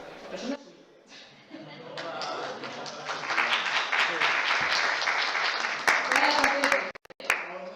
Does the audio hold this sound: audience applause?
yes